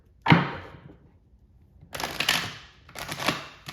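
A deck of cards is shuffled in three quick riffling bursts, close and crisp, with short pauses between them.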